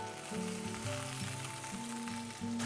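Red onions, garlic, ginger and tofu sauté in a pan for pineapple fried rice, giving a soft, steady sizzle under faint background music, with no talk.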